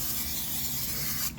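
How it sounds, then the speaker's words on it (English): Cooking spray hisses from an aerosol can onto seasoned potatoes on a sheet pan, one steady close burst lasting over a second before cutting off. "we're going to give this a nice spray. Any cooking spray you have will do"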